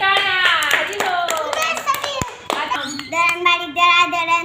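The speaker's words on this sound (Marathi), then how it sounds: "उमेशसाठी टाळ्या" A group of children claps along together, the claps mixed with their loud, bright voices singing a repetitive chant nearby.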